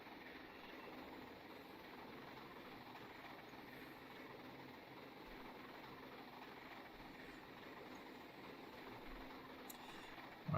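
A train in a simulator game, run as an express passenger service with a steep grade nearby, gives a steady, even rumble of rolling wheels and engine drone throughout, with no speech over it.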